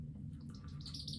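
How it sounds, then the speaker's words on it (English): A Harris hawk in its first days of training gives nervous, thin tweeting calls, soft high chirps scattered over a steady low hum, continuous throughout with no talking. "You can hear the bird tweeting"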